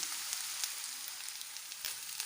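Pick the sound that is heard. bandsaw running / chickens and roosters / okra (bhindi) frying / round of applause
okra (bhindi) frying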